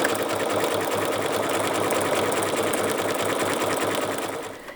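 A sewing machine stitches appliqué fabric in one continuous run, its rapid, even mechanical whir and needle chatter loud and close for several seconds before slowing at the end, with no talking.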